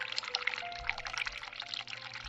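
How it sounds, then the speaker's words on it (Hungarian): Hot water running from a tap in The Cat Lady video game, a steady, soft splashing stream that stays faint throughout with no voices. "Tehát ha meleg vizet nyitom meg"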